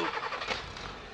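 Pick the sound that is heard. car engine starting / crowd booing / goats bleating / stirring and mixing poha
car engine starting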